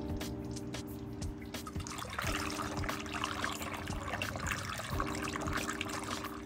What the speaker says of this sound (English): Now it's time to fill it with distilled water.